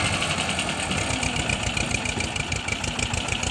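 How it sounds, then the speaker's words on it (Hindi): An Escort 335 tractor hitched to a trolley loaded with 50–60 quintals idles with a steady, throbbing diesel chug, loud and close, with no voices over it. "आवाज़ देखें क्या शानदार आवाज़ है ट्रैक्टर की"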